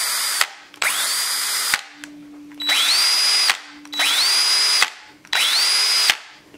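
A brushless Craftsman cordless drill runs free on its second speed setting in five close, loud bursts. Each burst spins up quickly, holds steady and cuts off, with short silences between.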